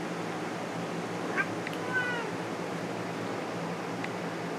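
A pet cat gives a couple of faint, short meows from a snowy tiny cabin against a quiet hiss of background noise.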